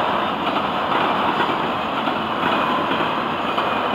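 Freight train with auto rack cars rolls past close by, a loud, continuous rumble and roar of wheels on rail, steady throughout with no voices.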